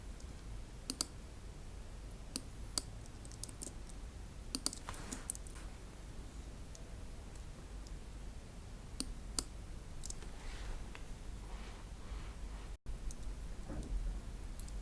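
Mouse clicks and computer keyboard typing while logging in to a website, sparse sharp clicks and short bursts of keystrokes, quiet and close in a still room.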